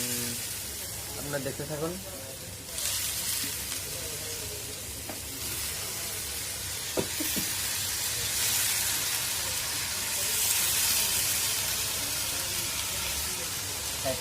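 Potatoes dropped into a hot frying pan of cooking food, giving a steady hiss and sizzle that holds throughout, with a person talking over it.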